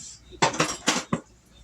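A metal meat fork clinks and scrapes against a pan while cream chicken thighs are cooked, four quick bright metallic hits in a row, close and fairly quiet.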